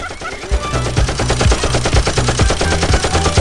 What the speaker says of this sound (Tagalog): Machine gun ba?